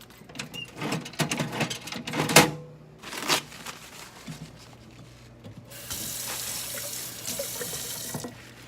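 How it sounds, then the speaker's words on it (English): Tap water runs into a sink to wet a paper towel, preceded by scattered handling clatter and rustles; the stream starts midway and flows steadily, close and moderately loud. "I'm going to go get a paper towel, wet it down just a little bit"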